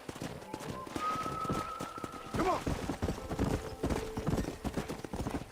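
Hooves clop rhythmically as a horse is ridden in the Western game Red Dead Redemption, with a brief whinny partway through. Steady, fairly close footfalls continue under faint background music.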